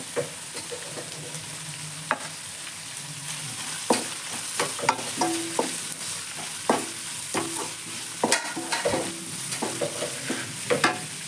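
Carrots being stir-fried in a pan for egg fried rice, a steady close sizzle broken by repeated sharp scrapes and clacks of a spatula on the pan, with no talking.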